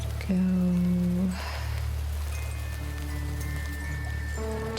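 Steady rain falls in The Quarry video game, a continuous soft wash of patter on surfaces beneath a low hum, with tonal game music and effects rising over it at moments.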